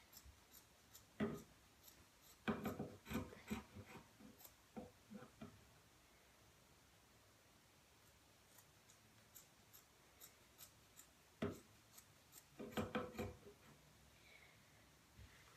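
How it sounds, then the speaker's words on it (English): Faint, sparse snips of dull scissors cutting shirt fabric, a few quick crunchy cuts in small clusters separated by quiet pauses. "I really need to sharpen my scissors"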